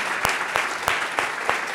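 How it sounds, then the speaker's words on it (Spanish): Applause from an audience, a steady wash of clapping with a few sharper claps standing out at regular intervals. "Un aplauso para Chelo"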